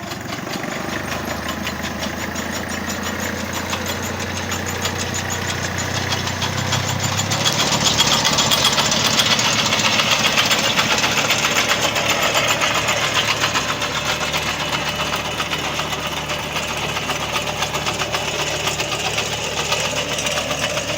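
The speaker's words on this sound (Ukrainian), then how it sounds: "Побачили, як працює копалка" A homemade potato digger works behind a running engine, giving a continuous mid-pitched engine drone with mechanical rattling that swells louder for several seconds midway, then settles to a steady hum; no voices.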